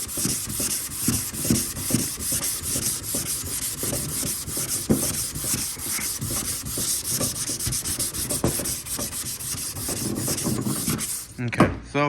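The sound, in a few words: sanding block sanding car body panel primer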